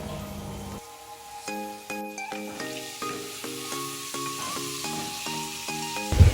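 Potatoes frying in a pan as a chili and tomato paste goes in, a steady close sizzle with harmonic stirring scrapes and a louder clatter at the very end, no talking.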